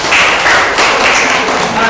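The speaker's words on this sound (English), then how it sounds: "Give applause to yourself, please." Audience applause after a storytelling competition, a sustained wash of many hands clapping at steady loudness for the whole stretch, with no voices over it.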